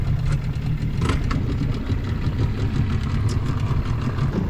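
A dinghy's outboard motor, tilted to its shallow setting in shallow water, drones steadily and continuously at close range, a low rumbling hum with no voices over it.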